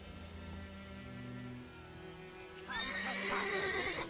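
A horse in The Witcher 3 gives a sharp, loud whinny near the end, with hoof clip-clop nearby, over a steady low game soundtrack of sustained tones.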